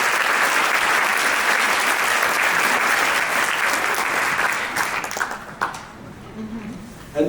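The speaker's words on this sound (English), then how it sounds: "Give your students a round of applause again." Audience applause for students at a county band concert, a sustained loud wash of many hands clapping that fades out toward the end, leaving a quieter room with a few stray sounds.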